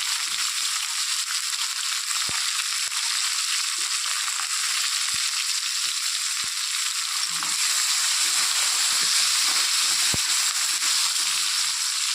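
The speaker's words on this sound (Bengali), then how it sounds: "পেঁয়াজ ভাজা হয়ে গেছে" Onions frying in hot oil give a steady, dense sizzle throughout, with a few sharp pops and crackles breaking through.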